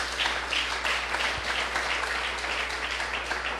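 Congregation applause at a church service, a steady wash of clapping that fills the space evenly throughout with no voices rising above it.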